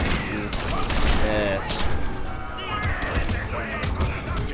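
Rapid bursts of video game gunfire crackle densely in the Crackdown game, overlapping with clashing impacts and mechanical effects while a player talks over the action.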